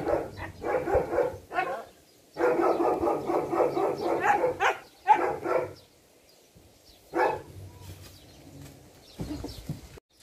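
Dogs bark in loud repeated bursts with whimpers and yips between them, close by, broken by short quiet pauses.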